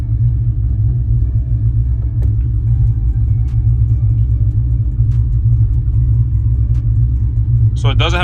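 A Hellephant 300 crate engine idles with a steady, low, even rumble and no misfire, loud and close throughout, with a few faint clicks and a brief higher whine near the end.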